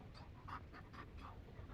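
A Mabari war dog pants in quick, rhythmic breaths in the fantasy game Dragon Age Inquisition, a steady run of soft huffs at moderate, close range with no talk over them.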